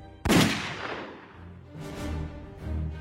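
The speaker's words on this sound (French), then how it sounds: "elle tire." A single handgun shot in a French true-crime murder reconstruction, one sharp loud blast followed by a long echoing decay and a couple of low rumbling swells.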